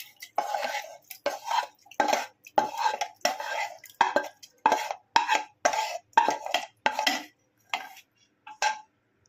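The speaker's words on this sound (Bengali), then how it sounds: "এই মিক্সি জারের মধ্যে আমি এই আমটাকে নিয়ে নিচ্ছি" Boiled green mangoes are spooned into a mixer jar with about a dozen short, evenly spaced clinks and scrapes of utensil against the jar, close and clear, with no talking.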